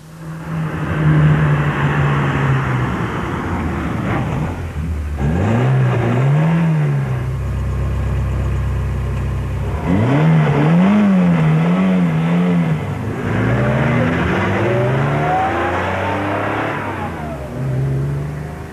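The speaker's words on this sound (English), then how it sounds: "Fast cars are so vulgar, aren't they?" A car engine revs hard several times, rising and falling in pitch with loud, throaty bursts and brief pauses between pulls.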